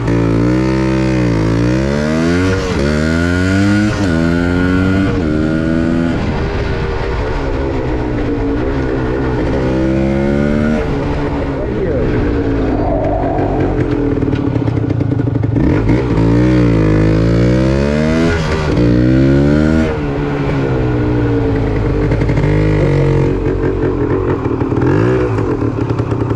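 Vintage Yamaha DT250 motorcycle engine revs up and down while riding, loud and close throughout with repeated rising throttle sweeps and gear changes, no voices over it.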